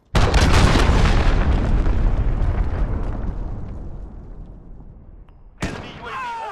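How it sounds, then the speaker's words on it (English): A cruise missile strike in Call of Duty: Modern Warfare lands as one massive, loud explosion with a long rumbling decay lasting several seconds, followed by a sharper secondary bang and lingering debris noise. "Cruise missile."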